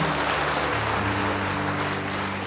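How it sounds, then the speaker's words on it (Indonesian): Congregation clapping in a church service, a dense steady wash of applause filling the space from start to finish, with a held organ or keyboard chord sustained underneath. "Beri tepuk tangan bagi Dia."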